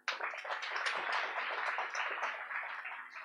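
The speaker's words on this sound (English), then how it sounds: "Let's give them a round of applause." An audience applauds at the 13th AcSIR Foundation Day celebration, with a burst of dense clapping starting abruptly and sustaining evenly for a few seconds.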